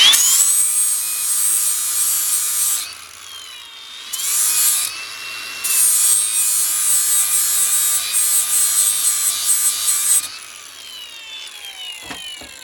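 Hand grinder whining at high pitch while sharpening a mower blade clamped in a vise, a loud steady scream that dips briefly twice before cutting off and spinning down.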